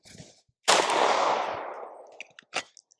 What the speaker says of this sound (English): I'm just shooting towards the berm.